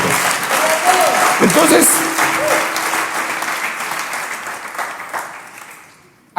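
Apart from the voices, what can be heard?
audience applause for the King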